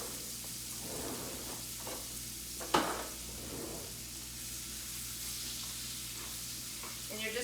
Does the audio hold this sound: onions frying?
yes